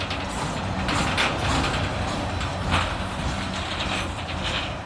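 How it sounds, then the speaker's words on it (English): Union Pacific freight train of heavy grain hopper cars rolling slowly past, a steady broadband rumble with faint rail clatter and squeal, continuous and moderately near without talk. "Ah, some heavy steel. That is nothing but grainers."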